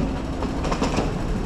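A metro train runs in Hong Kong, a close, steady rumble with faint rhythmic wheel clatter over about a second and a half, no voices.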